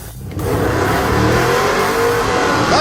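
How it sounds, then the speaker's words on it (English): A Mopar muscle truck's engine revs hard at a race start in a truck showdown, jumping abruptly from quiet into a loud, sustained roar that holds to the end. "Oh, Mopar muscle truck."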